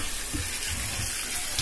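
Water poured into a cooking pot before boiling corn, a close, continuous splashing gush that runs throughout at fairly high level, with no speech over it.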